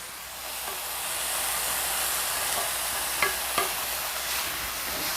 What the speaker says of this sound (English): now it's time to add our onions as well as our seasoning